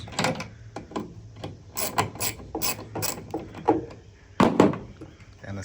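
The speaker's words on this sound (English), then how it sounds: "If you have an electric ratchet, we'll just undo them" An electric ratchet spins out T15 Torx screws on a 2023 Chevrolet Silverado headlight housing, giving bursts of rapid buzzing clicks that start and stop repeatedly, loud and close with scraping handling noise between bursts.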